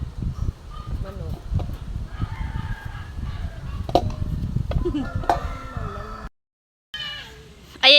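Chickens clucking with a rooster crowing at a rural Filipino home, bird calls scattered over steady background noise with a brief dropout near the end and faint voices nearby.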